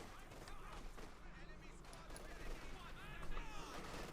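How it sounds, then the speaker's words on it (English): Gunfire in Company of Heroes 2 battle, faint crackling bursts of small-arms and machine-gun fire mixed with a voice shouting for help over the din. "We're being met by withering fire from the fascists"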